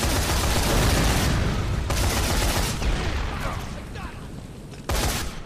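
Rapid gunfire from soldiers hits the player in the zombie game Dead Rising 3, with dense bursts of shots that thin out and then resume abruptly, and a player talking over them.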